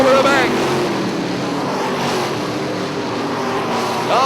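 IMCA modified race cars roar around the dirt track at Ionia Raceway Park, a loud continuous engine drone swelling and fading as cars pass, with an announcer talking over the noise.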